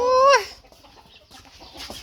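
A rooster lets out a loud, close, drawn-out call at the start, then quieter clucks and scattered farmyard noises follow with no talking.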